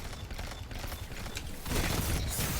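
Rapid gunfire rattles during a competitive PvP gunfight in the video game Destiny 2, with dense overlapping bursts that swell louder toward the end.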